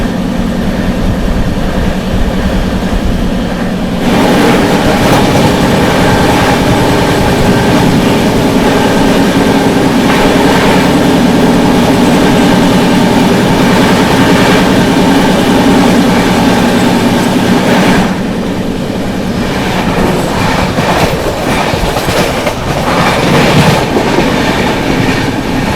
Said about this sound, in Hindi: न्यू दिल्ली लखनऊ स्वर्ण शताब्दी एक्सप्रेस।